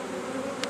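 Honeybees hum steadily around two hives set side by side, a dense, continuous buzz close by with no voices.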